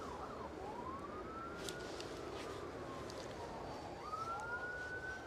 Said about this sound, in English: Fire engines on the move. Actually on the move. And they've got sirens going, as you will hear.